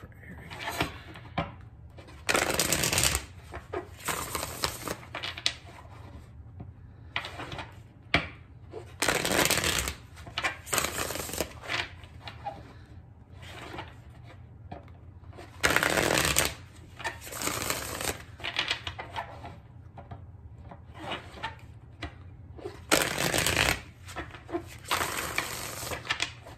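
Tarot cards are shuffled in repeated bursts of riffling and flicking, close by, with a quiet voice occasionally speaking between the shuffles.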